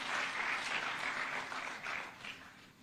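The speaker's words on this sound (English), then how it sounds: "You can give him a clap as he's coming." Faint, distant applause from the audience at a closing ceremony at State House, a steady, even patter of many hands lasting a few seconds and fading slightly at the end.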